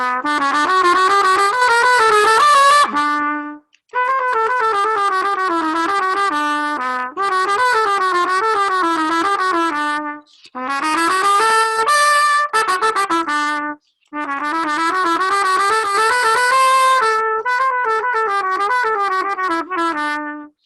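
Trumpet played in a masterclass demonstration, running quick phrases of fast notes in several bursts with brief pauses between them, bright and loud with no talking.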